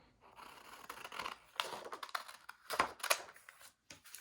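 Scissors cut through cardstock in a series of close, crisp snips and rasping slices that come in uneven bursts, with no talking.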